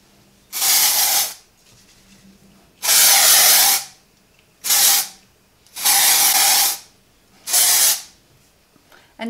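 Aerosol spray misted onto a Jon Renau wig, five loud close hissing bursts of one to two seconds each, separated by short quiet gaps.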